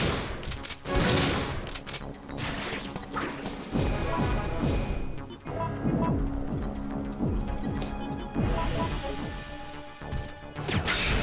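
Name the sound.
enhanced shotgun shells fired in video game Resident Evil 3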